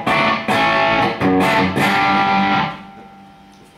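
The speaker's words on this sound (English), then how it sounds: "I have some distortion sound here." Distorted electric guitar through EMG P90 and 89X pickups strums chords in a few loud, sustained bursts, then lets the last one ring out and fade.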